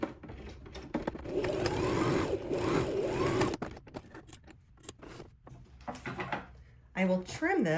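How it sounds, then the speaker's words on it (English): Sewing machine running a straight stitch along a marked line on tote bag fabric, a steady mechanical whir in sustained bursts, with speech heard at times. "I'll then straight stitch right down that line."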